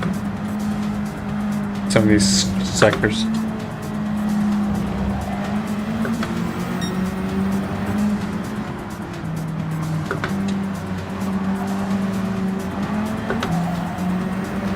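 A Group 4 race car in Gran Turismo drones with a steady, loud engine note that rises and falls through gear changes, with brief tire squeals early on, while someone talks over it.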